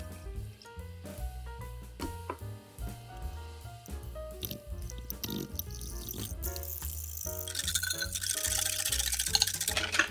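Liquid is poured a little at a time into crepe batter during mixing, wet sloshing and squishing that builds to a steady pouring hiss near the end, with no talking.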